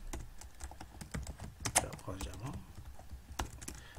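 Rapid, close keystrokes clatter on a computer keyboard as Java code is typed, an uneven burst of clicks with a few louder key presses.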